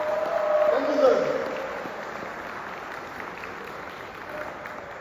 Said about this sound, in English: Stand up and give him a round of applause, please.